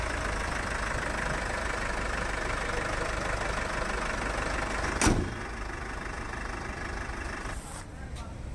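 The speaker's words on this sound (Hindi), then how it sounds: "अब मैं इसको सुनाता हूँ इसका साउंड एक बार स्टार्ट करके।" A Mercedes-Benz GLE 250 d diesel SUV engine idling with a steady low rumble and faint knocking, a brief louder burst partway through, then settling back to idle.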